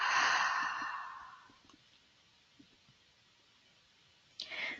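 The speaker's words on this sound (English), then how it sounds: "Hold your breath at the top and then exhale slowly." A slow, soft exhale during a relaxed breathing exercise, close and breathy, fading out over a couple of seconds, then quiet with faint clicks and a brief breath at the end.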